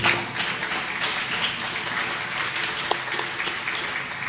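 Audience at an Islamic boarding school applauds a retired army lieutenant general, a dense, sustained wash of clapping from a crowd heard throughout, with a couple of sharper individual claps standing out.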